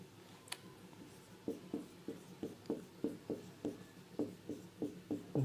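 A teacher writes on a classroom board during a physics lesson, chalk tapping and scratching in a steady rhythm of short strokes, close and quiet with no talk.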